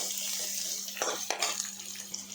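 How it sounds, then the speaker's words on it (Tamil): Shallots for moong dal sambar sauté in a pan, giving a steady hiss with a couple of louder scrapes and clatters of a utensil against the pan. "நல்லா வதக்கி விடலாம்."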